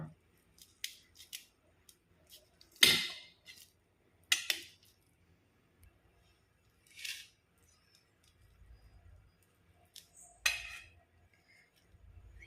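A fluffy cooked capsicum dish being cut in its pan with a knife or scissors: sharp, isolated snips and metallic clicks at irregular intervals, close by, separated by near silence, with faint low rumbling in between.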